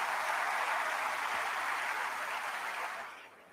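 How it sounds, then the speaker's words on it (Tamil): Sustained applause from a lecture audience at a guest lecture, dense and steady, fading out toward the end. "ஒரு தடவை கைத்தட்டல் கொடுத்துடலாம்"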